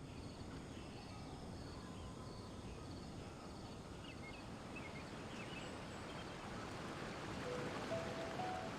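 Water gushes and rushes in the Genshin Impact video game, a faint, steady broadband wash of surf-like noise that swells slightly toward the end.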